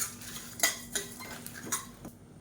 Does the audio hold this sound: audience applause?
no